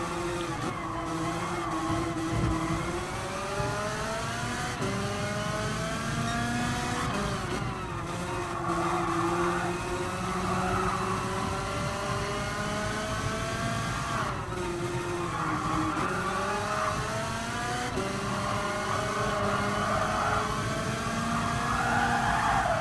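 Go-kart engine racing in Gran Turismo Sport at a Halloween event, a steady buzzing drone that climbs and drops in pitch through corners, with occasional skid noise, continuous and alone without talk.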